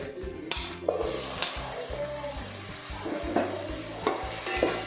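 A tomato going into a hot pan while making Hyderabadi dalcha, with steady sizzling and frying alongside repeated stirring and scraping of a spoon against the pan, close and continuous.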